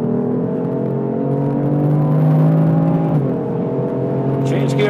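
BMW car engine on a racetrack at Mondello, holding a steady harmonic drone with its pitch slowly climbing, then dipping at a gear change near the end, loud and close throughout.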